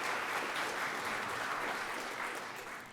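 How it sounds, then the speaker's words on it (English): Audience applause at a Columbus Metropolitan Club luncheon panel on hiring veterans: dense, steady clapping from a full room, loud and continuous throughout before easing slightly at the end. "If you give them a round of applause."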